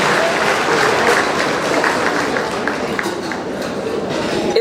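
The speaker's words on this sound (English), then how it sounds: "Please give him a round of applause for that." Audience at a Jamaica 60 Diamond Jubilee gala giving a round of applause, dense and loud continuous clapping sustained for several seconds without letting up.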